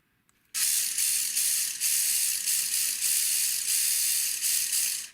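A high, steady mechanical whine and rapid ratcheting buzz from the small motor pinion of an MA Racing 1/24 RWD RC drift car, starting abruptly and running loud and close for several seconds.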